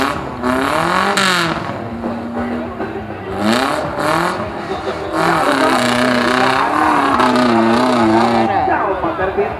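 Off-road car revving its engine at an off-road event in Aceh, a loud, wavering engine note rising and falling continuously throughout, with people talking and an announcer's voice mixed in over it.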